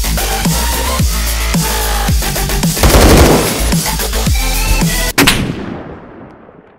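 Loud, close gunfire from the Roblox game Phantom Forces: rapid repeated shots build into a heavier burst of fire, then one sharp crack gives way to a fading echo.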